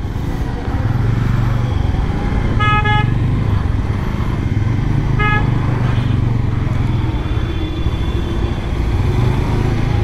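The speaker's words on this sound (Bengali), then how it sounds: "হর্নটা হলো আমার পাশের এই যে স্প্লেন্ডার প্লাসের।" Horn of a Hero Splendor Plus motorcycle in traffic, two short loud honks over continuous close road and engine noise.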